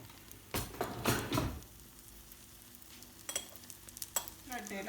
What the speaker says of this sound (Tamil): நான் நல்லெண்ணெய் ஊற்றுறேன்.